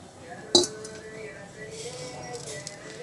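A metal kadai is set down for frying brinjal, a single sharp metallic clink near the start followed by quiet kitchen background.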